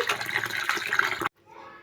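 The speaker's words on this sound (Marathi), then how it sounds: "आता गहू छान धुवून टाकायचे 2-3 पाण्याने।" Wheat grains are rinsed by hand in water, a short burst of close sloshing and swirling that stops abruptly, followed by a faint trickle.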